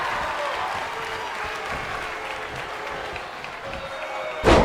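Crowd cheering and applause in the WWE 2K25 wrestling video game, a steady arena roar running throughout with a louder burst near the end.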